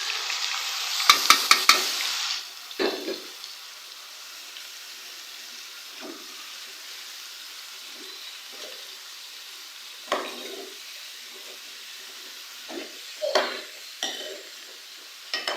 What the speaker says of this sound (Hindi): वेजिटेबल्स को हम लोग अच्छे से मिक्स करेंगे